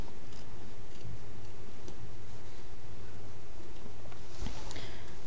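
Small embroidery scissors snip through fabric in a few quiet, scattered clicks over a steady background hiss, with a sharper cut near the end.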